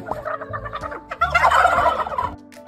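A voice imitates turkeys gobbling, a rapid warbling burst of bird-like calls, close and fairly loud, with no other sound around it.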